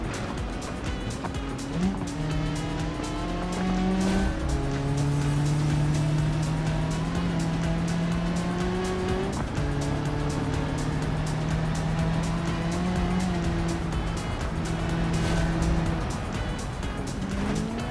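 A car in BeamNG.drive driving on a punctured right tyre, its engine droning loudly and continuously with rising and falling revs and gear changes, with a faint tyre squeal here and there.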